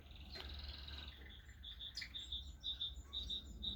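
Birds in an outdoor aviary of exotic species give faint, repeated high chirps and short tweets in quick clusters over a steady low rumble of background noise.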